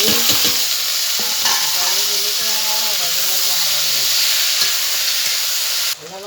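Chopped onion stirred in hot oil in a pan for a village-style taro flower curry, giving a steady, loud sizzle with scraping strokes and faint background voices throughout.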